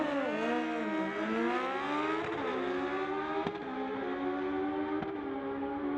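A 2017 Suzuki and a Kawasaki motorcycle launch side by side down a drag strip, engines screaming through rising, stepped gear changes, loud and sustained as the bikes pull away.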